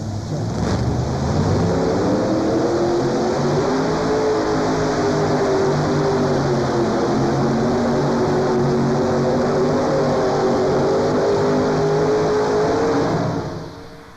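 A 7,200-pound modified pulling tractor roars at a farm machinery show's night pull, a loud, sustained engine drone with wavering pitch for about thirteen seconds before cutting off.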